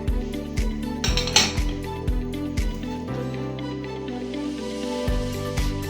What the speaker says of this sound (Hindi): डालते हैं खरबूजा